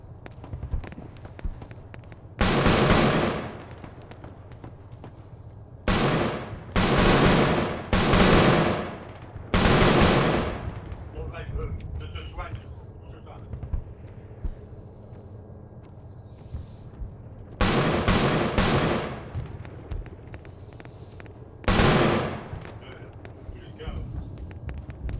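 Automatic gunfire from the ArmA 3 military shooter, including machine-gun fire, comes in several loud, rapid bursts separated by quieter stretches of low battlefield rumble.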